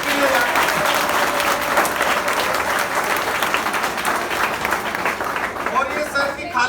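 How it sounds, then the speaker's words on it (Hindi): A college audience claps loudly and steadily, a dense sustained round of applause that carries on for several seconds and then thins slightly toward the end. "जोरदार तालियां सर की हाइट के लिए।"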